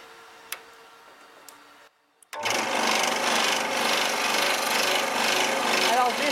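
A scroll saw starts up after a few quiet clicks and cuts wood for Christmas village pieces with a continuous, rapid buzzing chatter, loud and close.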